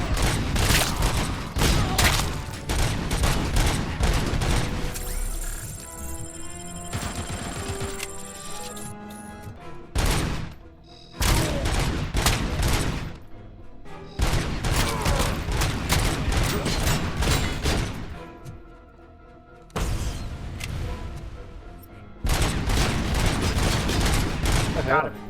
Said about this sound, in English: Yeah, 50 cal rounds, and yeah, 50 cal round hurts.